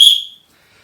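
A single short, sharp whistle blast from a player's kit on an airsoft field sounds close and loud, then decays quickly into silence.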